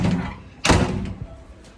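A door shuts with a single sharp slam partway through, a brief thud against a quiet indoor background.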